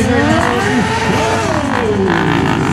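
At the Salão Moto Brasil 2016 show, a car drifts under hard throttle, the engine revving loudly and rising and falling while tires squeal, all close and continuous.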